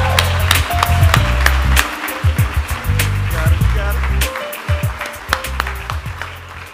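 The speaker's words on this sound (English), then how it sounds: "please do a warm round of applause in welcoming Hazel to the" A charity gala audience applauds as a young speaker walks to the stage, the clapping rushing like water beneath loud music with low rhythmic bass and distinct sharp claps throughout.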